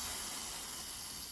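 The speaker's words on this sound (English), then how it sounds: "we're going to spray it off with brake cleaner because it's covered in dirt and oil" Brake cleaner is sprayed onto the dirty, oily carburetor of a Stihl FS 36 trimmer, giving a faint, continuous aerosol hiss that runs steadily throughout without any talking.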